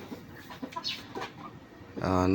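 A farmyard hen clucks in a series of short, close calls, with rustling and background noise around it, ending in a louder, sustained sound.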